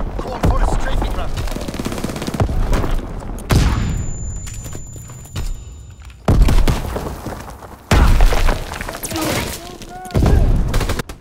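Strafing-run gunfire in the Call of Duty WWII video game, loud bursts of rapid machine-gun fire with booms, separated by short gaps.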